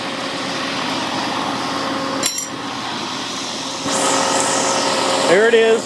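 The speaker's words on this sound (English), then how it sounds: "My no weld grinder." A homemade no-weld belt grinder runs steadily with a continuous mechanical hum and whir, close and moderately loud, as someone speaks briefly over it.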